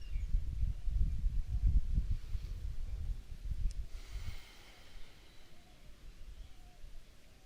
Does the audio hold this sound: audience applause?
no